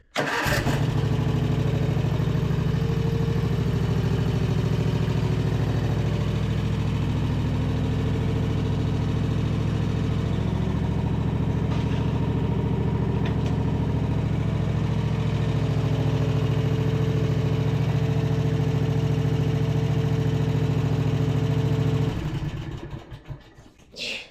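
A zero turn mower's engine catches and starts, then settles into a steady, loud idle that drones close by for over twenty seconds before cutting off abruptly near the end, with no talking.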